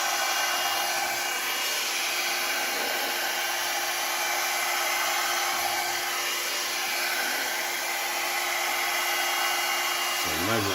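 A hair dryer blows paint in a steady, loud, high whine that runs unbroken for about ten seconds and then cuts off, with faint talk underneath.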